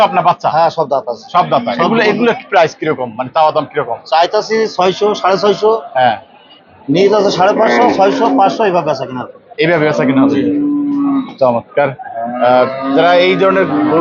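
Cattle low and moo at a busy Qurbani cattle market in Keraniganj, mostly buried under steady close conversation.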